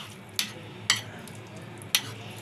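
Raw beef dropped and mixed into a yogurt and tikka masala marinade, three sharp wet slapping clicks spaced irregularly over a quiet low background hum.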